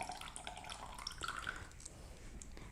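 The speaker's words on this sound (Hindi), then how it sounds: "3 टेबलस्पून हम इसमें लेमन जूस" Lemon juice, about three tablespoons, poured into a bowl of mixed spices for tandoori chicken tikka: a soft, brief liquid trickle with faint drips, quiet and close, with no talking.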